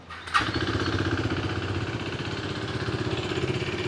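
A KTM RC 390 motorcycle engine cranks and fires up after a brief starter whir, then settles into a steady, pulsing idle close by.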